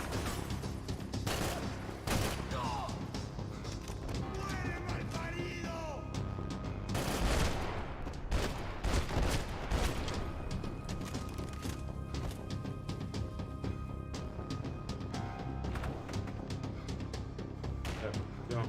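Automatic rifle fire in a first-person shooter video game comes as repeated loud, close bursts and single shots. Someone talks between them.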